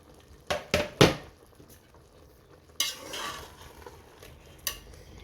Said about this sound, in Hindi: अब मैं प्रेशर कुकर अपना ओपन कर रही हूँ।